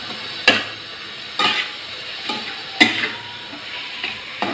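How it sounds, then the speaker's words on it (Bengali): Prawn paste frying in a pan, stirred gently, with a few separate scraping strokes and a soft crackle in between, close and moderately quiet. "এবার আমি এটা নেড়ে নেব হালকা করে।"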